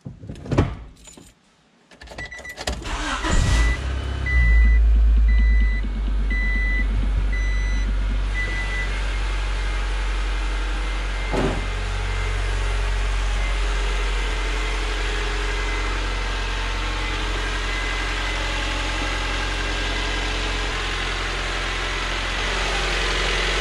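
A Honda Civic engine cranks and catches on its first start after a timing belt and water pump replacement, then settles into a steady, loud idle that runs on alone with a brief chime early on.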